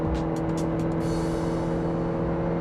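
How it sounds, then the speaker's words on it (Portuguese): Suzuki Jimny Sierra engine droning steadily at road speed as the automatic gearbox changes from third to fourth, a continuous close hum with a slight easing of pitch partway through. "Agora ele vai entrar quarta, eu vou tirar o pé de leve."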